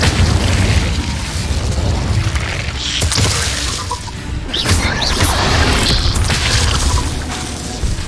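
In the game Hogwarts Legacy, an Incendio fire spell goes off as a loud, dense roaring blast of flame that fills the whole stretch, with crackling bursts and impacts breaking through it.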